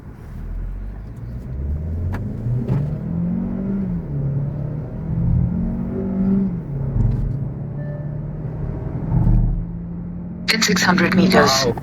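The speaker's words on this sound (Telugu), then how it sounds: "ఇప్పుడు మనము టర్బో పెట్రోల్ లో 0 to 100 అయితే టెస్ట్ చేయబోతున్నాం" A Kia Seltos second-gen turbo petrol engine revs up through the gears in a 0 to 100 acceleration run. The rumble rises and falls with each gear change, heard from inside the cabin, and a person talks over it.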